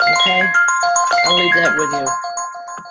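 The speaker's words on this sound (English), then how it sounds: "I apologize for the phone," A mobile phone rings with a bright repeating melodic ringtone over an indoor spiritual reading, playing loudly and close while a person keeps talking over it.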